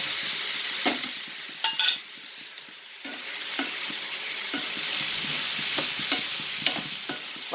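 Small onions sauté in a pan for dried turkey berry kuzhambu, a steady close sizzle broken by several sharp clinks and scrapes of stirring.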